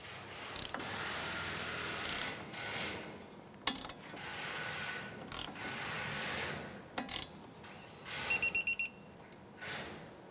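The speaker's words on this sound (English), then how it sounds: "Go ahead and torque down the pinch bolt to 52 foot-pounds." A torque wrench ratchets in short clicking bursts while tightening the strut pinch bolt on a 2001-2007 Ford Escape, ending in a quick run of sharp clicks as it reaches torque, close and clear with no talking.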